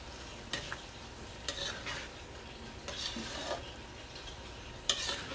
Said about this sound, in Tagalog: Yan, kumulo na siya.